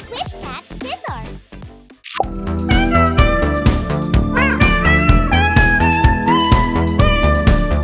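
Cats meow in the Space Cats meme, a few sharp meows at the start followed by a brief pause and then loud, continuous synth music with melodic meow-like tones carrying to the end.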